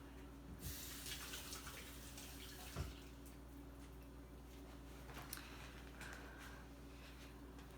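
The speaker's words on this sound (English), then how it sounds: "I'm gonna wash my hands too." Water runs from a tap as hands are washed, a faint steady splashing stream with a few soft knocks, quiet and close.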